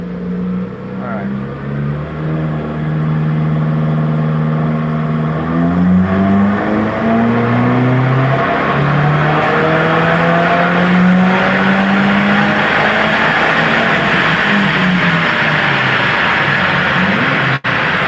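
Car engine revving hard on a dyno with traction control switched off, a loud sustained roar with rising and falling harmonics across the run, close and continuous, ending in a brief sharp click.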